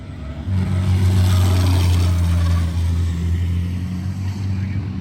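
Race trucks on a NASCAR track during pro qualifying, a low steady engine drone that swells in after a moment and holds, with a faint whine above and distant, washed-out motor noise around it.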